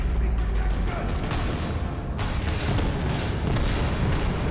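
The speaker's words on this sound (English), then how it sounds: "let's try these rockets now" Rocket launcher fire and explosions in the video game Borderlands 3: repeated loud booming blasts and crackling bursts, one after another, with a dense, noisy game soundtrack underneath.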